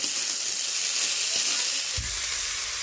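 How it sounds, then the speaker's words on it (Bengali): Fried rice being stirred with fried vegetables in a pan over low heat, a steady soft frying hiss with light scraping, then a low thump near the end; no talking. "এইভাবে হালকাভাবে নেড়ে চেড়ে সবজিগুলোর সাথে মিশিয়ে নিচ্ছি"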